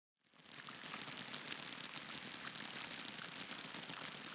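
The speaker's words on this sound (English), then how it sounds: "There's actually raindrop noises this time." Steady rain patters throughout in the video game Political Reading Simulator, arriving on a car at a funeral, a dense even hiss of drops fading in at the start and holding constant at moderate loudness, with no voices.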